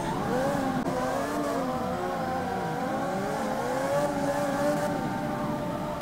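A car races at high speed in the street-racing video game CarX Street, its engine whining steadily with shifting revs that rise and fall throughout, loud and continuous with no pauses.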